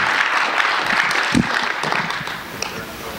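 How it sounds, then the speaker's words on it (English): Applause from an audience at a 2013 luncheon presentation, a dense patter of many hands clapping close by that gradually tapers off. "how about giving a round of applause to both Beth and for Bob for working with us on this?"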